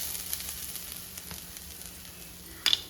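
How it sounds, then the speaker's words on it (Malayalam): Grated coconut frying in a hot wok on a stove gives a steady close sizzle throughout, with a brief sharper crackle near the end. "നമുക്ക് അതിലേക്ക് തേങ്ങ ഇട്ട് കൊടുക്കാം"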